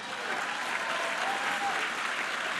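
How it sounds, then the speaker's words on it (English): A large audience at the White House Correspondents' Dinner applauds 50 years of SNL, a dense, even roar of clapping sustained throughout the room. "50 years of SNL, we can applaud for a moment."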